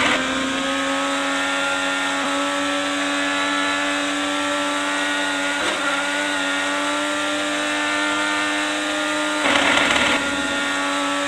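IndyCar race cars at the GoPro Grand Prix of Monterey produce a loud, sustained high-pitched engine whine that holds steady, with a couple of brief rougher bursts and no voices.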